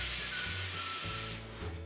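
Air hisses steadily out of a party balloon as it is squeezed down to a 9-inch size for a balloon arch, a close, continuous rushing that shifts in tone partway through, with no talk.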